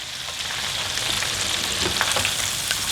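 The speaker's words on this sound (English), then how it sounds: "Just drop them in the grease." Calamari deep frying in hot grease, a steady loud bubbling sizzle that runs the whole time with no talking over it.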